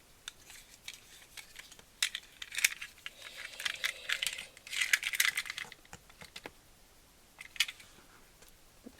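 Scissors cutting paper while preparing a personal journal, irregular close snips and crisp rustles in short bursts over several seconds, with no talking.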